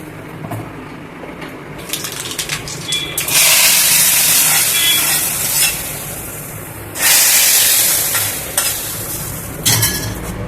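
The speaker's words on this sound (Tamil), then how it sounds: "அந்த சைடு கடுகு பொரிச்சு கொட்டுறேன்" Mustard seeds splutter in hot coconut oil for tempering a keerai molakootal, a loud hissing crackle that swells in two long, fierce bursts between quieter stretches of sizzling.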